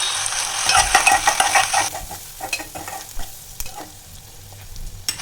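Onions fry with salt in a pan for pasta, a bright sizzle with a spatula scraping and clinking against the pan in irregular strokes, loud and close at first, then quieter with scattered stirring taps.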